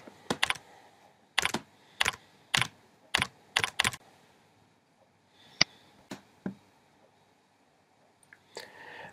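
Someone types a title on a computer keyboard: short bursts of close, crisp key clicks in an even run, then a few scattered taps with pauses in a quiet room, no voices.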